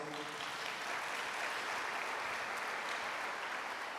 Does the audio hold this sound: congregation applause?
yes